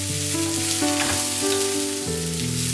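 Onions, tomato and capsicum sauté in a pan with a steady sizzle, while a sustained tonal music bed plays over the frying throughout.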